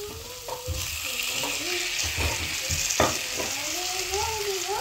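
Tomatoes and onions fry in a pan for prawn gravy, a continuous close sizzle with scraping stirs.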